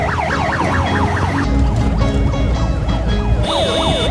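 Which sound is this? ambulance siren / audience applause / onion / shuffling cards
ambulance siren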